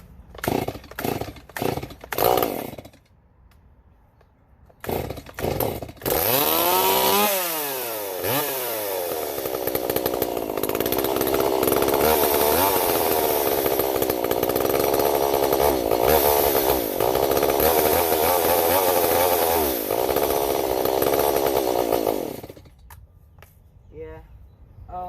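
A chainsaw with a modified muffler starts after a few sharp pulls, revs up with rising whine, then runs loud and continuous at high speed with fluctuating revs before cutting off, brief human voice near the start.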